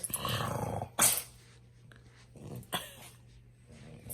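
A dog growls in short, low rumbling bursts, close by, with brief pauses between them.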